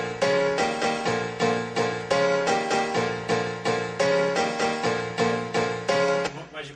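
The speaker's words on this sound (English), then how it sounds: "They sampled a big Yamaha grand piano." Sampled Yamaha grand piano preset from Logic's EXS24 playing a steady, rhythmic series of sustained chords, each struck and ringing into the next, close and clear, with the last one fading out.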